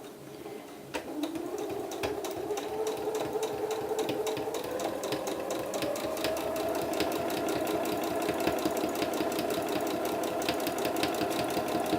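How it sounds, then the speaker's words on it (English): A sewing machine top stitches along the edge of an A-line reversible dress, its needle starting with a click and then running in a steady, rapid, close mechanical whir that holds an even rhythm throughout. "Now when you are top stitching, top stitch approximately 1/8 away from the edge"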